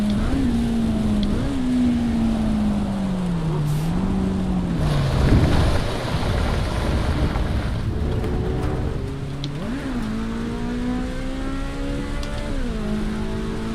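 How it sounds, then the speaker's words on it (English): Rain hisses steadily in the racing video game Assetto Corsa Evo, heard beneath a car engine whose pitch rises and falls as it accelerates and shifts, continuous and fairly loud throughout. "Now, the rain."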